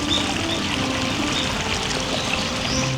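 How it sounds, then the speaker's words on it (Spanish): Water flows steadily through a Japanese garden in Kyoto, a continuous trickling stream that holds at moderate loudness throughout with no voices present. "Como buen jardín japonés, fluye agua y se escucha el sonidito para relajarse todavía más."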